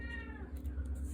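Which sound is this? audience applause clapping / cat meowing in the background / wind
cat meowing in the background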